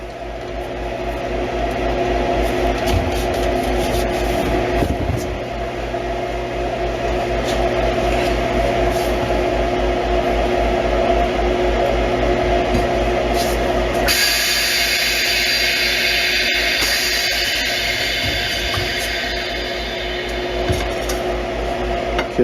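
A core drill runs steadily into a plaster-capped sample, giving a continuous loud mechanical whine and hum with a slight change in tone partway through and occasional faint knocks.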